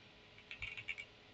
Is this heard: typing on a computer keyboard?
yes